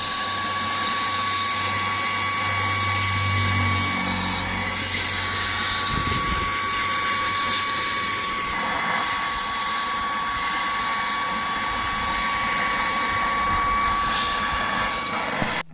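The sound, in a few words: Portronics Mopcop 4 car vacuum cleaner running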